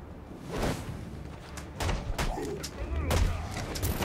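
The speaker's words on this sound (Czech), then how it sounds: "Odkaď ten demon střílí" Enemy gunfire in the video game Batman Arkham Origins: several sharp bursts and cracks scattered over a few seconds, loud and close, mixed with other game noise.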